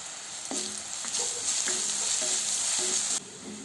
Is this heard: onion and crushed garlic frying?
yes